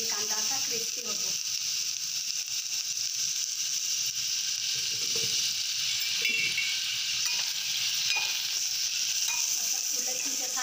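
Onions frying in a little oil in a pan for a chicken thali, a constant bright hiss with soft spatula movements throughout.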